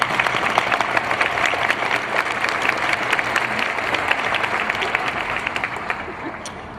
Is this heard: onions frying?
no